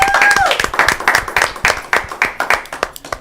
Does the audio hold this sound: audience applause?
yes